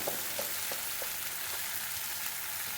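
Spices and Kashmiri chili frying in a pan for an egg curry, a soft steady sizzle with light regular stirring taps.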